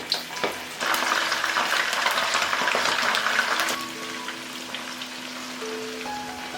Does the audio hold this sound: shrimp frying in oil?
yes